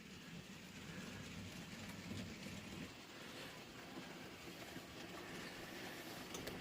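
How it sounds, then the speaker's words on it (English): A Dapol GWR Manor class model locomotive, Compton Manor, runs around a model railway layout with a steady, quiet rolling rumble and faint rhythmic track clicks, continuous and unbroken throughout. "The manor I'm using around there, I believe, is Compton Manor, and it's one of the Dapol ones, and you know, the running is pretty good on it."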